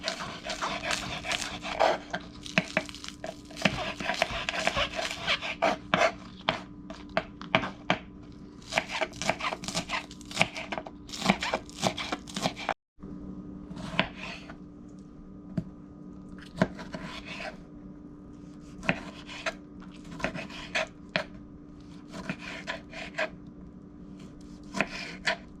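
Knife chopping scallion on a cutting board while preparing shrimp curry, a steady run of quick, close, crisp taps that pauses briefly midway and then resumes, with a dog panting faintly in the background.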